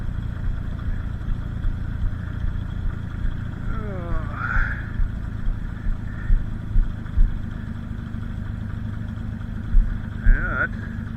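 Minneapolis Moline G900 LP tractor engine idling down after warming up, a steady low rumble close by with slight rhythmic pulsing, someone talking over it throughout.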